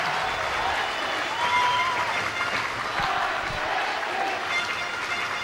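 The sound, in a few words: excited ice hockey crowd applauding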